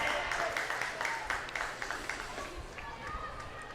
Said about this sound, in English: you can probably hear the Prairie fans Clapping her in as Prairie comes across here in first place